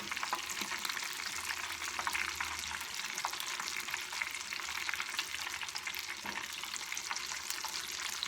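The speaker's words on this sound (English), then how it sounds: "Chicken is now frying" Chicken wing pieces fry in a pan with a constant, close crackling sizzle that holds steady for several seconds, and nobody speaks.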